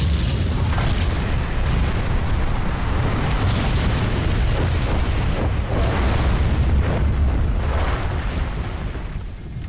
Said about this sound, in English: Tell them to blow those rockets.